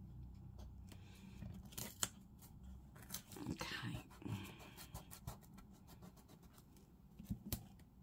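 Scissors trimming fabric for junk journal embellishments, a few sharp close snips and scattered rustles over a quiet background, with soft talk in places.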